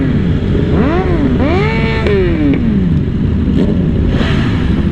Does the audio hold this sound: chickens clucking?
no